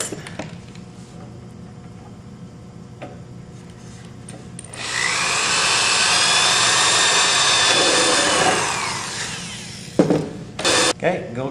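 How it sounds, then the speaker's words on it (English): Power drill boring through sheet metal on a metalworking bench: a quiet lead-in, then a loud, steady whining drill run for about four seconds that winds down, followed by a few clattering knocks. "And then I can drill it."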